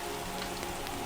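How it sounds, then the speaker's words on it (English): Freezing rain patters on a tin roof in a dense, even hiss of tiny impacts, steady and moderately soft throughout with no voices. "Listen to the freezing rain for a moment. The sound on the tin roof is like small bells ringing."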